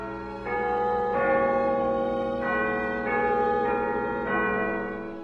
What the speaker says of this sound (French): Le carillon complet contient 74 cloches de bronze pour un poids total de plus de 100 tonnes